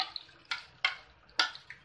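Leftover water from straining soaked chilies is poured into a mixer jar, heard as a few quiet, separate splashing drips spaced out over a couple of seconds.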